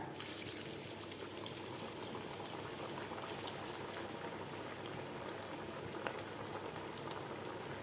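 Onion vada fry in hot oil, giving a dense, even bubbling sizzle that runs continuously at low level with occasional sharper pops.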